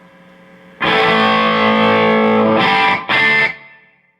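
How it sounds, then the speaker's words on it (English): Distorted electric guitar run through Valhalla reverb in the FX loop of a Marshall MG100DFX amp: one long held chord, then two short stabs, each leaving a reverb tail that fades out, loud and alone. "Alright, so I got some Valhalla reverb coming on."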